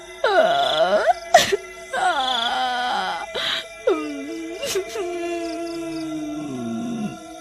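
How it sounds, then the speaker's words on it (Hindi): Long, eerie wailing moans rise and fall in drawn-out cries, with a few sharp bursts between them, sounding mournful and ghostly. "आधी रात होने पर जंगल से किसी के रोने की आवाज"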